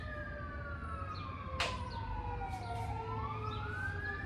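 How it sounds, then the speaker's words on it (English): Wailing fire truck siren sweeping up and down at a steady distance, loud over a low rumble of traffic, with a brief sharp sound partway through and no talking. "It's a fire truck."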